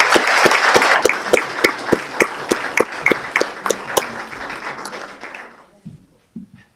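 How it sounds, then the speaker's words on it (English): A live-audience crowd applauds after a debate between Utah County Assessor candidates, sharp individual claps standing out in the dense clatter, which thins and fades out after about five seconds, leaving a few stray sounds. "Let's give them one more round of applause"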